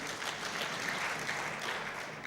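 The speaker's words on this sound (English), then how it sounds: "I think you need to clap for them." Audience at a manual launch ceremony clapping for a government donor, a brief, steady patter of moderate applause throughout.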